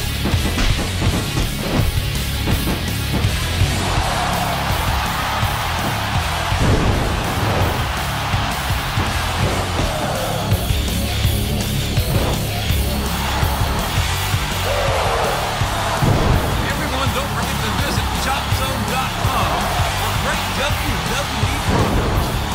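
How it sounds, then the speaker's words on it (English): A large wrestling-event crowd roars and cheers continuously in a big indoor arena, with swelling yells and a dense wash of noise from start to finish. "Listen to this crowd."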